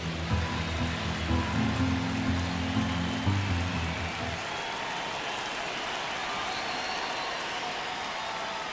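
Stadium crowd noise in the baseball video game MLB The Show 25 during a tense ninth inning, with a steady broad wash of crowd roar and murmur. A low musical or organ-like tone runs underneath for the first half.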